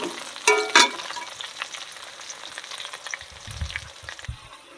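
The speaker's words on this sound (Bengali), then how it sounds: "আলুটা ভালো করে ভাজা হচ্ছে মশলার সঙ্গে" Potatoes fry with spices in a pan during village-style cooking, a constant sizzle broken by a couple of sharp clattering stirs early on and softer scraping bumps toward the end.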